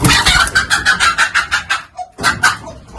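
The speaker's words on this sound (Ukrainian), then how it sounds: "І в нас ось уже тут квочка сидить, ось і зганяю." A broody hen sitting on eggs clucks in quick agitated bursts as she is shooed off the nest, loud and close, with a short pause before a final flurry.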